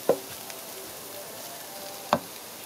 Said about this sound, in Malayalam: നമ്മൾ ഇതിലോട്ട് കഴുകി വെച്ചിരിക്കുന്ന ബീഫ് ചേർക്കാം